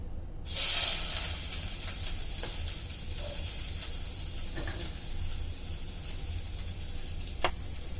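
Steady sizzling of ginger and garlic frying in hot oil, a continuous bright hiss with occasional faint clinks, no talking.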